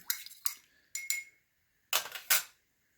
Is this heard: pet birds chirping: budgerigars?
no